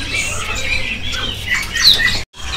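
A white-rumped shama (murai batu) calls at a bird market. Loud, busy squawks and bright chirps go on without a break over a steady background hum.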